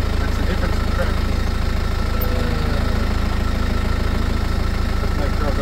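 A steady, low engine drone from a Land Rover Perentie 4x4 under load runs throughout, rumbling evenly with no pauses or talking.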